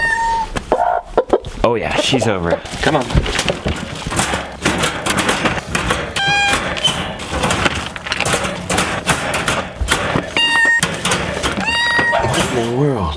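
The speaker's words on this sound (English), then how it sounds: "Let's test against the kittens." Kittens give several short, clear meows at intervals. Someone talks throughout, and the meows come through over his speech and background noise.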